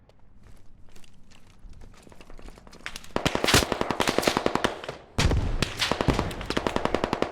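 Machine gun fire in Squad Leader, sparse scattered shots building into loud rapid bursts of automatic fire, with a sharp jump in intensity near the end.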